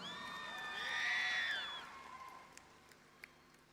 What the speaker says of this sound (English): A round of applause for Miss Nauru.